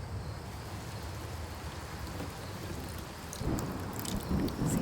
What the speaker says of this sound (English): So now we're going to make it rain and we're going to see what